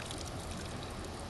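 Spring water flows from the ground at a source in South Ossetia, a close, steady rushing splash that is constant and unbroken.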